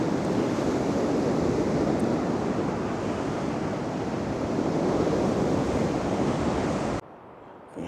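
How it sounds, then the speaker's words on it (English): Sea waves crash and wash ashore at high tide in Blackpool on a freezing day, a dense, steady roar that carries loudly through the scene and then cuts abruptly to near silence at the end. "it's fantastic just listening to the sea."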